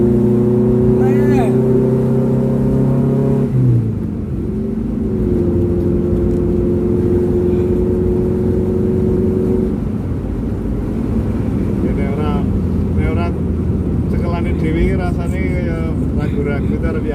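Kawasaki ZX-9 motorcycle engine with an aftermarket exhaust revving up and settling, loud and close throughout, with people talking over it.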